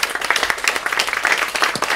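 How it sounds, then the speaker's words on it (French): Audience clapping at a live talk event, a lively burst of individual claps from a modest crowd, close and uneven in rhythm, sustained steadily for a couple of seconds. "On peut l'applaudir très fort"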